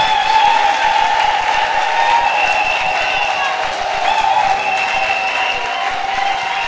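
Church congregation applauding and acclaiming, a continuous roar of clapping and voices that holds at an even, loud level throughout.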